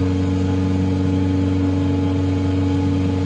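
A light aircraft engine drones steadily at full throttle while climbing near Bodmin Airfield, a loud constant tonal hum with no speech.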